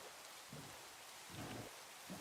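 Realistic rain from a modded video game pours as a constant broadband hiss, with soft low rumbling swells rising and fading every second or so beneath it and no one speaking.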